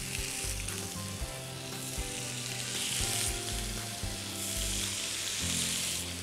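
Sticks frying in a lightly oiled pan, giving a steady, close crackling sizzle that runs throughout with no talk.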